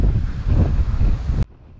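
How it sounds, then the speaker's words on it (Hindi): Wind gusting steadily over a microphone after rain on a motorbike road trip from Roing to Tezu, a loud continuous broadband rush that cuts off abruptly near the end, leaving a faint low hum. "इतना अच्छा हवा चल रहा है।"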